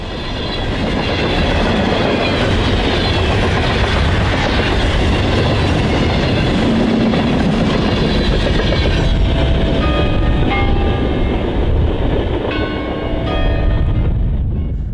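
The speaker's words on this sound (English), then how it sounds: "we chased train B-22 from Jackson to Albion." Train B-22 rumbles past close by in snow for a long stretch between Jackson and Albion, wheels clattering steadily over the rails, with a ringing crossing bell in the mix.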